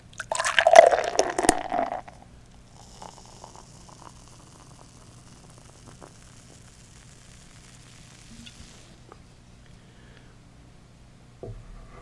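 Beer pours into a glass, a short bubbly gush for the first two seconds, then a faint, steady fizz as the sudsy foam settles, quiet and close.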